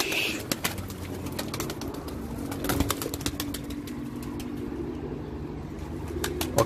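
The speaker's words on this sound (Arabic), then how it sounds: "وهذني المساكي طلعتهم برا" Pigeons let out of their loft coo and shuffle close by, with a few wing flaps and soft bird calls over a steady low murmur, no talking.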